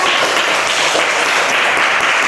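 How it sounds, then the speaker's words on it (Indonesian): A training class for elementary school teachers breaks into applause, a dense, steady roomful of clapping that holds evenly throughout. "Oke, tepuk tangan untuk semua."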